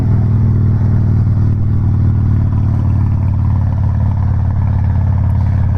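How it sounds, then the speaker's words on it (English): A Harley-Davidson Softail motorcycle with a twin cam engine idles and revs with a steady, loud low rumble that carries through the whole stretch with no voices. "That twin cam sounds like a motorcycle."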